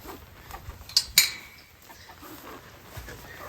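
Backyard hens clucking inside a portable chicken coop, a few sharp close squawks and clucks over quiet outdoor ambience, with some soft knocking nearby.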